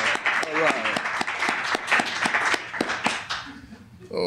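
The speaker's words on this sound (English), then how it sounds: "let's give another great round of applause there" An audience claps at a 1997 poetry recital at the San Francisco Public Library, with steady, loud applause that carries on for a few seconds before it thins out.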